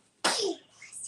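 One sudden, loud, close sneeze bursts out and then trails off quickly, followed by a faint breathy tail in a quiet room.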